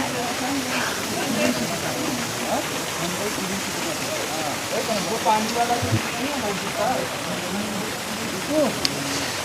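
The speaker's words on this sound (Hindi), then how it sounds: "बारिश हो रही है चारों तरफ" Steady rain pours all around on a mountain road along the Kedarnath Yatra route, a continuous hiss with water running across the road and voices murmuring beneath it.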